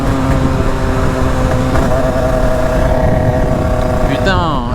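A Derbi 70cc moped fitted with a Metrakit kit drones loudly and steadily, its engine pitch climbing, then falling and sweeping upward again near the end as a gear changes. The ride is thick with wind roar.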